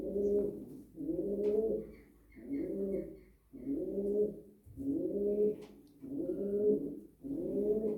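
A pigeon, a blue pied tumbler in a loft, coos close by in seven steady rolling phrases with short pauses between them, alone and clear.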